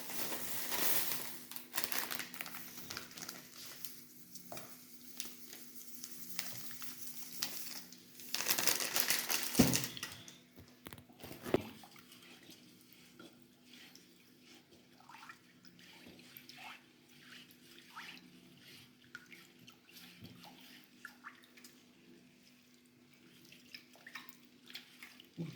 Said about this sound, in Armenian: Պատրաստում եմ աղաջուրը, որ լցնեմ պանիրի վրա